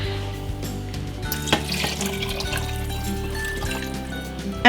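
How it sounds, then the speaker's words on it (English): Water runs steadily from a kitchen faucet into a soup pot for hamburger vegetable soup, a close, continuous splashing stream with a few small clunks, heard alone without talk. "put in some water."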